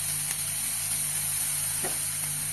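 Sweet corn with chaat masala cooks in a pan over a low flame, producing a soft, even hiss of steam and gentle sizzling that holds steady with one faint crackle.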